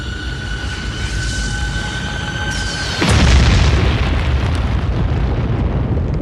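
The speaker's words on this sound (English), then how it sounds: "A falling rock in the shape of an asteroid or comet slammed into Central Australia." Asteroid or comet slamming into Central Australia: a thin whine and hum build, then at the midpoint a sudden deep, loud boom erupts and rolls on as a sustained rumbling roar.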